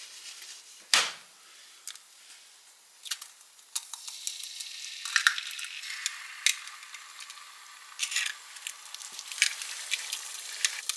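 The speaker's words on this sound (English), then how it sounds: "So I'm going to add a little butter to one of those wells. And I'm going to crack in 1 egg." A single egg fries in butter in the well of a pan, giving a quiet, steady sizzle dotted with small crackles and pops, with a sharper clatter near the start.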